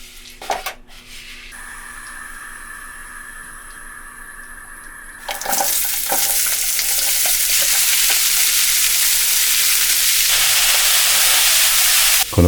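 Aromatic vegetables for a beef stew hit a hot pan over medium heat and sizzle loudly. A steady, close frying hiss takes over after a few seconds of quieter clatter and stirring.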